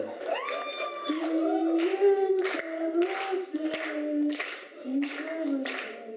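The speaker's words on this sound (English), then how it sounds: "Clap along." An audience in a theatre auditorium at the end of a student comedy show claps along, a steady wash of hand clapping running throughout beneath a talking, singing voice.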